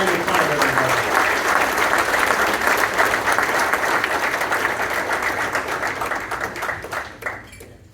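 Audience at a hall-of-fame award ceremony in upstate New York breaks into loud, dense applause that holds steady and then tapers off quickly near the end, with some voices mixed in.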